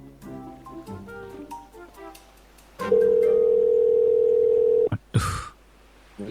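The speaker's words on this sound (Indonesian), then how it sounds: "Gue telepon dulu dah." A phone dial tone in the video game GTA V: a steady, loud, unbroken electronic tone lasting about two seconds after some soft game background noise, cut off abruptly and followed by a brief clatter.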